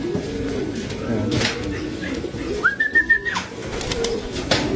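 Racing pigeons coo close by, soft rounded calls swelling in a short cluster midway, along with a brief whistle and light rustling.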